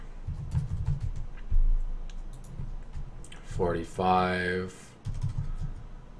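Soft clicking of numbers being typed on a computer keyboard, close and quiet, broken by a spoken number partway through.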